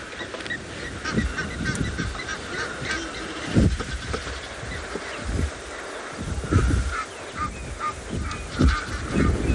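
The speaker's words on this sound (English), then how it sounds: "This is really one of the best sounds to hear when you're out on safari, is the call of the African fish eagle." An African fish eagle calls over a dam on a South African safari: loud, repeated ringing yelps in bursts, close and clear over outdoor ambience.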